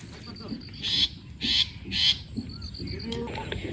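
A mother bird calls near its nest in a tree after rain with three hooting calls in a steady rhythm, moderately close, over a faint background hiss.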